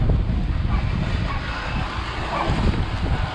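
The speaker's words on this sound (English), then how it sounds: "It's a little windy." Wind gusts against the microphone during outdoor palm tree climbing, a loud, rough rumble that swells and eases in uneven surges, with no speech.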